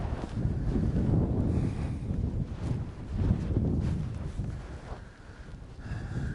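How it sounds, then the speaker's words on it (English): Strong wind blows outdoors around a farm fence repair, a steady roaring rush buffeting the microphone with gusty surges and no speech. "This wind doesn't try to kill us."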